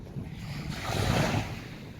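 Sea waves roll onto the beach at Anapa in a cold wind, a steady wash of surf that swells and fades, with wind rumbling against the microphone throughout.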